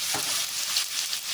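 Mustard seeds crackle and sizzle in hot oil in a home kitchen pan, a steady bright hiss with fine popping throughout, close and moderately loud.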